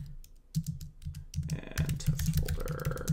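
Someone types on a computer keyboard nearby, with quick bursts of clicky keystrokes, a short pause, then faster continuous typing.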